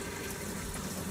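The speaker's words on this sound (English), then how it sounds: "So then you turn the water pump on." An RV water pump runs antifreeze through the freshwater system, giving a loud, steady rush of flowing liquid with a constant hum underneath.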